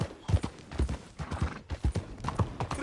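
A horse's hooves clip-clop in a steady, close, loud walking rhythm, the hoofbeats continuing alone without talk.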